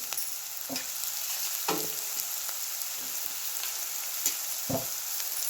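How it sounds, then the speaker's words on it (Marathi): Garlic-coconut masala and bitter gourd fry in plenty of oil with a steady, close sizzle. A few sharp spoon-against-pan scrapes from stirring land at irregular intervals. No one speaks. "त्यानंतर लसूण खोबऱ्याचा मसाला टाकलाय. तो भाजून घ्यायचा व्यवस्थित."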